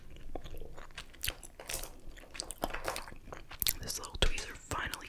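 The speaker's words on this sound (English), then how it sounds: "I'm still chewing this piece of Star Mix." Soft, close-up chewing and crunching of Star Mix gummy candy, with irregular moist bites and squishes over about five seconds, quiet whispered-style sounds mixed in.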